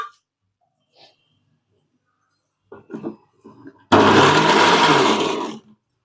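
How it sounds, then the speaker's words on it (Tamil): A mixer grinder pulsing shallots and garlic gives one loud burst of about two seconds that stops abruptly, after a few faint clatters and brief voice sounds. "இல்லைன்னா மிக்சியில் போட்டு பல்ஸில் போட்டு ஒரு அடி அடிச்சுக்கோங்க."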